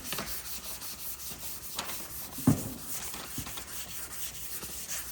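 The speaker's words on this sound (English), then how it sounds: "we'll just sand this side. Same kind of motion, same pattern, sanding the same high build primer." Hand sanding high build primer with 400 grit sandpaper on a sanding block makes steady, close, raspy back-and-forth rubbing strokes, with one sharper scrape partway through and no talk.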